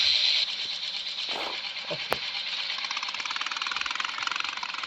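A motorbike engine idles and chugs with a steady rapid putter as riders climb on and set off, a brief clunk and a sharp click partway through, fairly close and loud.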